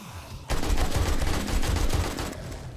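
Sustained automatic gunfire during a double horde night in the video game 7 Days to Die, a dense, loud, rapid stream of shots that bursts in after a quiet half second and keeps hammering to the end.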